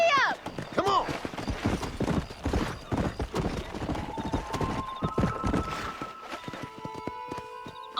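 Horse galloping in the Red Dead Redemption video game, with rapid rhythmic hoofbeats and a whinny near the start, a voice calling out over the hooves, and a sustained music tone rising in later.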